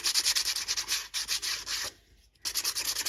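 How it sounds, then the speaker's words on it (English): Hand sanding the edges of a craft piece with 150 grit sandpaper, a close, steady rhythmic rasping scrub in quick back-and-forth strokes, pausing briefly midway before resuming. "we're going to get some sandpaper, and I think this is 150"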